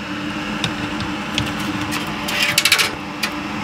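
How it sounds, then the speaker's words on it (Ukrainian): An inline duct fan runs steadily in an extraction setup with ductwork, a continuous mechanical hum with a few clicks and rattles over it. "Поставив ось такий канальний вентилятор."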